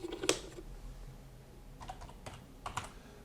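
Short bursts of keystrokes on a computer keyboard as code is entered, a quick cluster followed by a pause and then a few more scattered taps, quiet and close with no talk.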